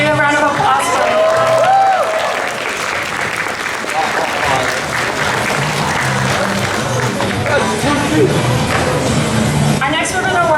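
Audience at the Fall Kraken Con 2016 anime convention costume contest applauding, with dense, steady clapping and crowd noise lasting about ten seconds while voices carry over it.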